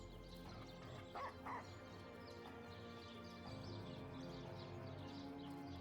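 A dog barks twice in quick succession in the fantasy role-playing game Divinity: Original Sin Enhanced Edition, the short yelping barks sitting over a continuous bed of game music and ambience.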